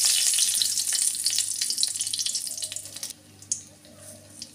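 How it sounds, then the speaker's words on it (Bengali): Dried red chillies hit hot oil with a loud, bright sizzle that fades after a few seconds, then gives way to quieter kitchen sounds with a faint clink. "এবার ওই তেলে দেব শুকনো লঙ্কা"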